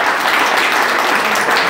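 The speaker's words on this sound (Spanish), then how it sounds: "Vamos a darle un cariñoso aplauso," Warm applause for teacher Juan Sotillo at an orchestra gathering, a dense, even wash of many people clapping, loud and steady throughout a short stretch.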